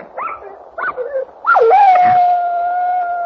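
A dog gives two short yelping whimpers and then breaks into a long, loud, wavering howl that holds steady close by.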